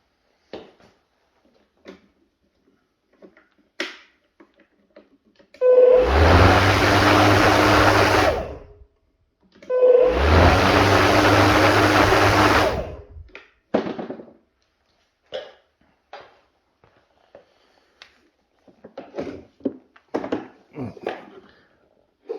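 A Makita 36V cordless lawn mower run indoors with its blade spinning in two bursts of a few seconds each, a loud whirring hum that starts and stops abruptly, with brief handling clicks and knocks between.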